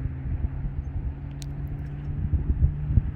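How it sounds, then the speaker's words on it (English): A 2021 Honda Insight's engine starts by remote start and idles with a steady low rumble, a brief high chirp near the start, and soft irregular knocks building toward the end. "first we will remote start"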